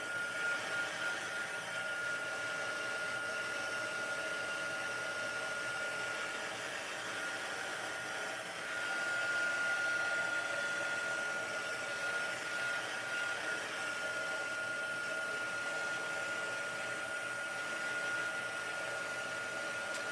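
A heat embossing tool blows hot air over embossing powder on a stamped base card, a steady loud whirring hiss with a fixed whine that runs unbroken throughout, with no talking.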